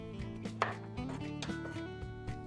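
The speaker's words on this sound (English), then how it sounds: "And then I'm dicing the butternut squash into bite-sized pieces." A knife dices butternut squash into bite-sized pieces on a board, giving steady, fairly quick chopping knocks close by over a low tonal background.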